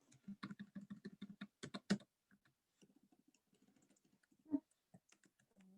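Rapid tapping on an iPad's on-screen keyboard while entering text in Excel, a quick run of light clicks followed by a few scattered taps and one louder tap, close and alone.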